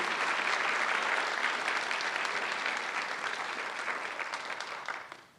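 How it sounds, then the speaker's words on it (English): Audience applause at a dental school white coat ceremony for the international dental class, a sustained, dense clapping from a large crowd that gradually tapers off and stops after about five seconds. "Let's give a round of applause for the International Dental Class of 2023."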